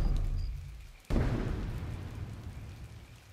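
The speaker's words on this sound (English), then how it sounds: "Okay, we got rain." Game rain from Plants vs. Zombies 3 sets in abruptly with a loud broadband hiss that stays steady and dense to the end.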